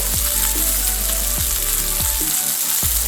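Steak and mushrooms fry loudly in oil with rosemary and garlic, a steady close sizzle broken by a few sharp pops and spatters.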